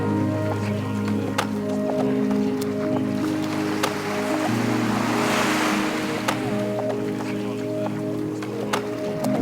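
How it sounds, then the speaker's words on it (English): Waves wash and splash in a small Caribbean bay during a morning stand-up paddleboard outing, a steady close swish with a steady tonal hum and a voice talking over it. "Our little bay is perfect for a morning paddle on the supboard, and Vera, she likes to join me."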